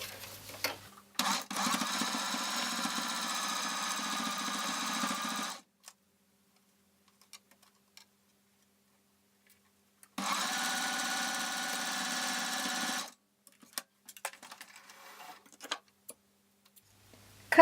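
A sewing machine stitches elastic wristcuffs onto fabric in two steady runs of about four and three seconds, separated by quiet, with small handling clicks at the end.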